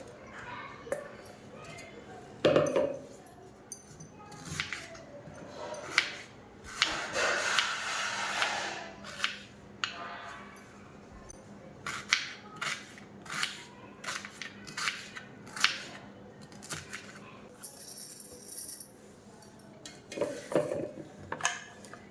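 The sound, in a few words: cutting beetroot into small pieces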